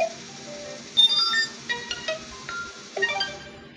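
Short notification tones play one after another on an Infinix Hot 10S phone, a string of bright chimes and beeps previewed back to back at close range with no talking.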